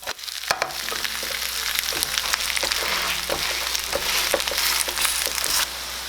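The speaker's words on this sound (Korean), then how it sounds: "앞뒤로 노릇하게 지져낸다" Steady oily sizzling of burdock fritters pan-frying, with scattered crackles and pops throughout, close and continuous.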